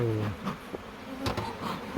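Agitated honeybees hum around an open beehive, a steady moderate buzz with faint voices and small knocks mixed in.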